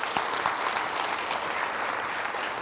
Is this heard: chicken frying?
no